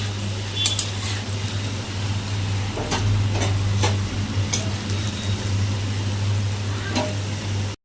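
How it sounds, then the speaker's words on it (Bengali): Papaya pieces frying in oil in a pan, giving a steady, fairly loud sizzle with a few brief scraping clicks scattered through it. "অল্প ভাজা হলে পেঁপেগুলো আমি আগে নামিয়ে নেব"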